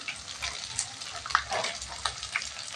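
Ginger, garlic and garam masala paste hitting onions in a pan for a country chicken curry, a busy crackling sizzle with bursts of spitting and stirring, close and steady.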